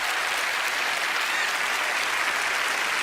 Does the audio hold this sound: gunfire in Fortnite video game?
no